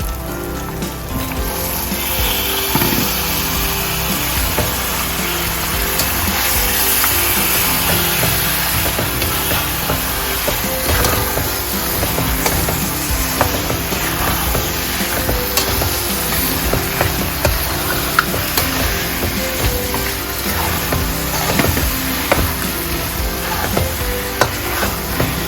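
Chunks of mutton hit hot frying masala for a Punjabi mutton curry, sizzling loudly and steadily while a spoon scrapes and stirs through the pan in irregular clatters, close up with no talking.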